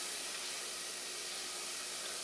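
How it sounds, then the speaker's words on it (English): Food sizzles in a heavy-bottomed pan on the stove as enchilada sauce cooks: a steady, soft, broadband hiss that holds evenly throughout with no voices. "Not quite low, but we want to slow down that sizzling"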